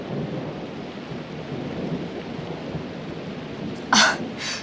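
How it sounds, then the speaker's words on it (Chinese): Thunder rumbles low and rolling during a storm in a drama scene, with a brighter, sharper burst close by near the end. "这么大雷声不怕吗？"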